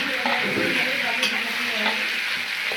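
A mashed banana flower mixture goes into a hot wok and is stirred as it fries, giving a continuous close sizzle with scraping stirs and a few soft clinks and no speech.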